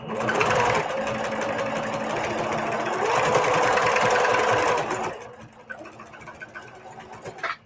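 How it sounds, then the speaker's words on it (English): A sewing machine stitches a quilted fabric heart with a quarter-inch seam, a steady, close, rapid needle whir for about five seconds, then slowing into a few short bursts before stopping. "I'm just doing the same 1/4 inch sewing that I've been doing, just sewing it down"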